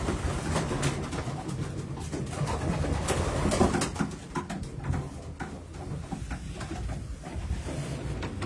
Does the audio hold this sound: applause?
no